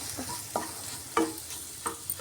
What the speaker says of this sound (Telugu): నూనె నెయ్యిలో ఇలాగా ఫ్రై చేసుకొని పచ్చి వాసన పోయే వరకు